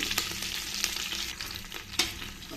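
Green chillies, curry leaves and chopped onions sizzle in a hot pan while a spoon stirs them, a close crackling hiss punctuated by a few sharp scrapes and clacks.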